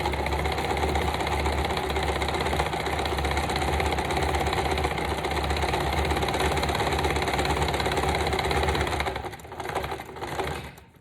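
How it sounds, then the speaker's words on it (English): A sewing machine stitching a small handmade mini journal runs in a fast, even, close-up whir for about nine seconds, then slows and stutters to a stop. "All right, I'll sew that in."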